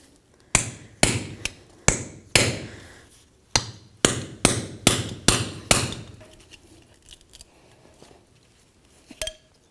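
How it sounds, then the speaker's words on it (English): Hammer striking between the rear wheel hub and seal on a 1999-2007 Ford F-250 Super Duty, about ten sharp metallic bonks in an uneven rhythm, close and loud, then a couple of faint knocks. "give it a couple bonks and try to break it free"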